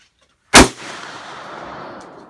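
A single loud gunshot cracks at an outdoor gun range in Franklin, followed by a long rolling echo that fades slowly across the open space.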